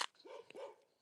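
A dog on a beach gives a single short bark with a whimpering, yipping tone, close and clear, with no talk over it.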